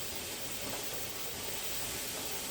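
Steam sputters unevenly from the vent of a 16-quart Presto pressure canner during a batch of black-eyed peas, a continuous close hiss with an irregular, not-yet-steady flow and no talk.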